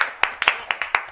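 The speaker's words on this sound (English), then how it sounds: "Let's clap." A small group claps during a school board meeting: a few sharp, fairly loud claps in a loose, uneven rhythm, close and clear, over a short burst.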